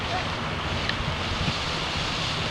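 Water splashes steadily from a small fountain in Mill Creek Park, making an even, continuous rush at moderate distance.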